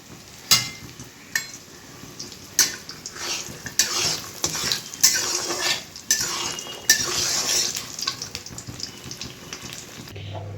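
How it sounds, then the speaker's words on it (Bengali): Lentil bori frying in hot mustard oil in a kadai, with a steady sizzle under repeated sharp clinks and scrapes of a utensil against the pan. "প্রথমে তেলের মধ্যে বড়িগুলো দিয়ে দেবো, কারণ বড়িগুলো আগে ভেজে নিতে হবে।"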